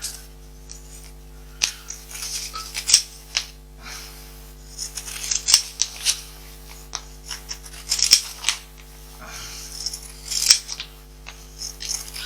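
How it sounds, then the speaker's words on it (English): Sharp dressmaking scissors snip through thick fabric for pot holders in a series of close, crisp cuts with short pauses, over a faint steady hum. "dressmaking scissors, or sharp material scissors anyway"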